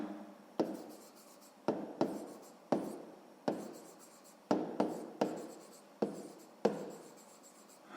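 Pen writing by hand on paper while working a sixth-grade maths exercise, a series of sharp scratchy strokes and taps in uneven bursts, close and fairly clear against a quiet background.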